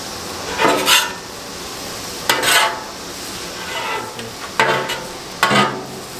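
Onions saute on a hot Blackstone griddle, with a steady sizzle under several scraping, clattering strokes of a spatula across the flat-top, close and fairly loud, without talking.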